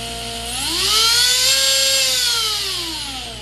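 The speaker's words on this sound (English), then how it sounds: "So now my number 1 motor is spinning." One brushless motor of a Target Hobby QAV210 quadcopter spins up during ESC calibration, a thin high whine whose pitch rises, holds steady and then eases slightly, heard alone at close range.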